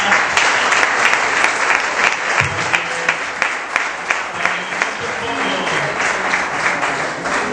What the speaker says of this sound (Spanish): Así que le damos un aplauso con cariño a la hermana.